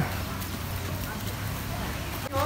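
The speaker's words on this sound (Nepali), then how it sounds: "मम्मी घोडा चढेर उता जाँदै हुनुहुन्छ" A horse carrying a rider walks along a path, its hooves clopping in a steady rhythm beneath people talking nearby.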